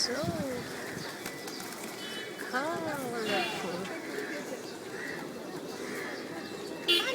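Hundreds of pigeons flock in a city plaza, cooing and chattering steadily with an occasional burst of wing flaps, while someone talks excitedly over them.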